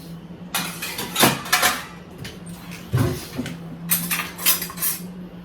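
Dishes and plates being washed by hand in a home kitchen, with steel utensils and plates clinking and clattering in irregular bursts, close and moderately loud, over a low steady hum.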